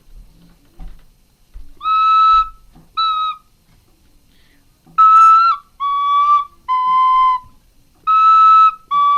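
A synthesized musical tone on the note B among a short sequence of loud, clear electronic notes, some brief and some sustained, at slightly shifting pitches, with no talking.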